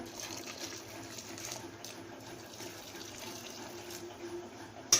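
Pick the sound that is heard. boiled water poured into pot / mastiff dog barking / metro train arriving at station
boiled water poured into pot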